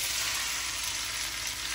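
Garlic browned in a pan crackles with a steady, close sizzle as noodles go in for a vegetarian Bình Định-style stir-fry, a dense continuous frying hiss with no pauses.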